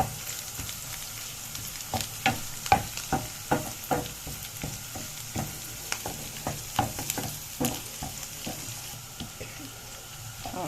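Minced garlic frying in hot oil with onions for Alexandrian-style fava beans, a steady close sizzle with repeated sharp clicks of a spoon stirring against the pan, no voices.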